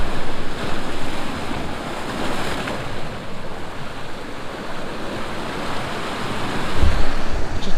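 Sea waves rolling onto the shore along the coast near Dunseverick, a steady close wash of surf with wind noise buffeting the microphone and a louder surge near the end.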